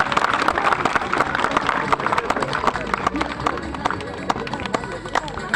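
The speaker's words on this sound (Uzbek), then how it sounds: "Bitta guldiroz qarsak chalinglar" Audience applause at a football draw ceremony, with scattered claps and crowd noise from many people, loud and close, mixed with voices talking over the clapping.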